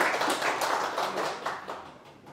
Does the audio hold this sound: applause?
yes